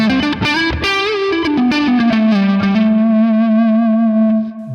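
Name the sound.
distorted electric guitar through amp capture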